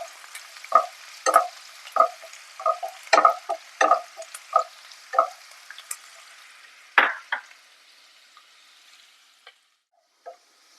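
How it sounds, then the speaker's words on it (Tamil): Sliced onions sautéing in a pan until golden for Madurai rottukadai chicken salna: a dozen or so brisk spatula strokes scrape and clatter over a faint sizzle, then the stirring stops and only a few light taps remain. "வெங்காயம் நல்லா வதங்கி லைட்டா கோல்டன் கலர் வரட்டும்."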